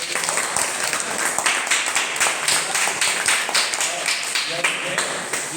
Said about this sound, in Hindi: सब इसको ताली बजा कर स्वागत करिए